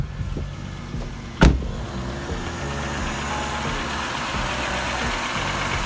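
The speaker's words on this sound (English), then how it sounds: "That's just carbon knock, it's not a knock knock." A used car engine, an ex-fleet vehicle bought at auction, idles steadily at close range with a light ticking carbon knock. A brief sharp whoosh cuts in near the start, then the low idle carries on alone.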